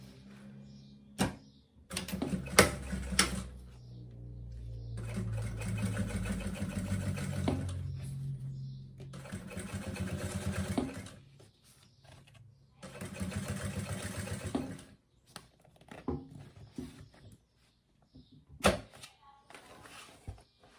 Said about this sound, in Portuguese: vou vir costurando daqui